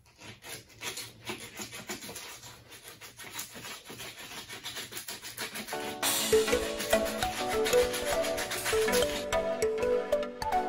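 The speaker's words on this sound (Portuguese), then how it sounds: "Você vai ter que lixar aqui." Sanding a recycled artificial fishing lure by hand, a steady rough rubbing that continues throughout and grows louder and denser in the second half, with faint tonal music in the background.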